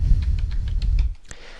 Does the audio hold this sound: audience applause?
no